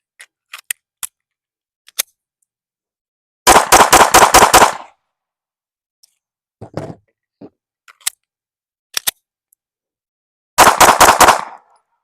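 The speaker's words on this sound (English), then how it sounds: "I'm going to shoot 5 rounds out of the Zaffiri Precision one, and then 5 rounds out of the Radian Ramjet one" Two loud, tight strings of five quick pistol shots from a Sig P365 fitted with compensators, one Zaffiri Precision and one Radian Ramjet, separated by a pause with faint clicks and handling noises.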